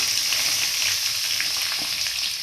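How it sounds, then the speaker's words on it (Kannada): Onions with a little salt sizzle steadily in a hot pan for a soya bean curry, a loud, continuous bright hiss close up with no talking. "ಈರುಳ್ಳಿ ಫ್ರೈ ಆಗೋಕ್ಕೆ ಸ್ವಲ್ಪ ಉಪ್ಪು ಹಾಕ್ಕೊಂಡು ಫ್ರೈ ಮಾಡ್ಕೊಳ್ಳೋಣ"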